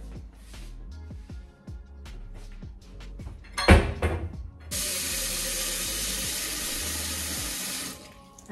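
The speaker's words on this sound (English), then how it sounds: "I was just filling the pan with water." Tap water runs steadily into a cooking pan in a home kitchen, a loud continuous rush lasting several seconds after some quieter clattering and handling noises.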